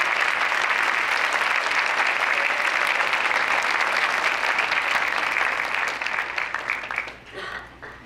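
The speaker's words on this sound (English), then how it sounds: "if we could give them a round of applause for all their years of service to our students" Sustained applause from a school assembly audience honoring retiring teachers, dense and steady clapping that fades out near the end.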